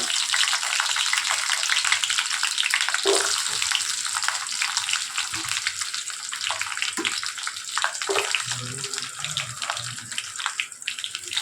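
Shallots fry steadily in hot oil with mustard seeds and fennel for a brinjal kuzhambu, a dense, continuous sizzle with a few soft stirring knocks and no talking.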